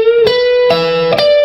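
Slow minor pentatonic electric guitar lick, a few distinct picked notes with a bend, each one ringing out clearly, loud and close, with no talking.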